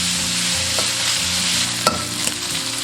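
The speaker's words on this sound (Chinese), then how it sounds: "快速炒炒。" Minced pork stir-fried in a little oil in a clay pot gives a steady, close sizzle, with a few sharp scrapes of the spatula against the pot. No one speaks.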